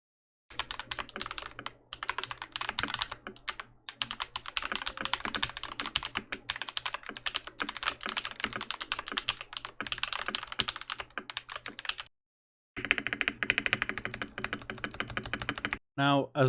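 Rapid, continuous clacking of keystrokes on a budget custom mechanical keyboard, close to the microphone, running steadily for about twelve seconds, then a short pause and a further burst of typing.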